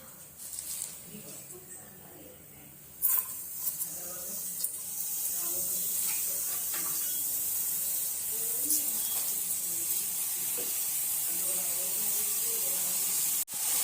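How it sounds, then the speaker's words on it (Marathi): Fenugreek greens go into a hot pan for a Pune-style methi dish, giving a steady hiss and sizzle that swells after a brief clatter and runs on fairly loud with small crackles until a sharp knock near the end. "आता आपण हे भांड गरम करायला ठेवलं यात आता मेथीची भाजी टाकूया"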